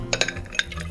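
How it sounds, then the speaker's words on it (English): A Boulevardier cocktail with bourbon being stirred over ice, giving a few light, close clinks and taps scattered through a short moment. "Let's give it lots of dilution and a stir"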